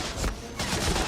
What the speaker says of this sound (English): We're gonna have to use our sniper rifle here.